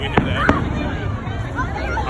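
Fourth of July fireworks explode with two sharp bangs near the start, followed by softer crackles under a crowd and nearby people talking.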